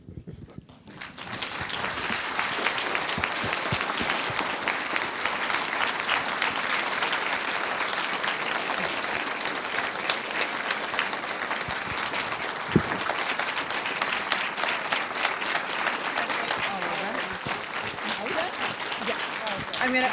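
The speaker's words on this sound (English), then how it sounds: "Could you give us another round of applause for Janaya Khan?" Sustained audience applause after a Black Lives Matter keynote speech, a broad, steady roar of many hands clapping for twenty seconds, swelling quickly at the start and holding even, with a few scattered cheers mixed in.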